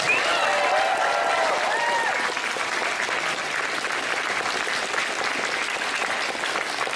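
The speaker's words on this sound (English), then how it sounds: "So big round of applause for these guys." Convention panel audience at Anime Evolution 2009 applauding the ReBoot voice actors, a dense, sustained wash of clapping filling the room, loud at first and easing slightly, with some crowd noise underneath.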